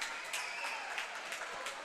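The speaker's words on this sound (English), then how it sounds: "To the cheer of Let's Go Broncos, Bethany retakes the floor." A crowd at a high school basketball game between Bethany and Harding Charter Prep, with a steady wash of cheering and scattered clapping throughout.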